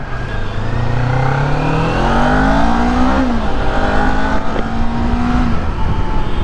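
A loud motorcycle engine revs up and down continuously, its pitch rising and falling close by, with no voices.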